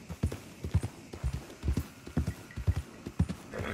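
Horse hooves clip-clop in Red Dead Redemption 2, a steady, close, rhythmic trot of paired thuds continuing throughout with faint background ambience.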